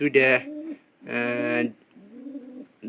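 A pair of domestic pigeons coo close by in repeated soft, throaty phrases, with a louder bubbling call twice between quieter low coos.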